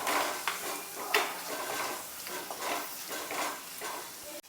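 Tomato masala for a fish curry being stirred in a pan, a dense steady sizzle with repeated scraping and clinking of a spoon against the pan, close and fairly loud.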